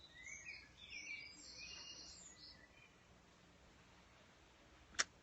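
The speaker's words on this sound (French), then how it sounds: "c'est aussi pour faire écouter les petits oiseaux du coin" Small birds chirp and twitter faintly outdoors, somewhat distant. Then it goes quiet, and a sharp click comes near the end.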